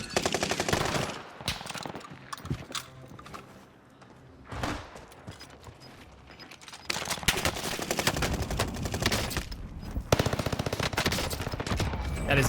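Rapid bursts of automatic gunfire in the video game Warzone, loud and close, come in dense volleys separated by short pauses and quieter stretches, with single sharp shots between the sustained fire.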